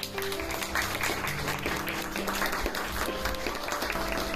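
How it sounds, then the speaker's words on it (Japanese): Audience applause at a karaoke contest for the five finalists, moderately faint and steady clapping in a small event space, with a low background hum under it. "この5人に大きな拍手"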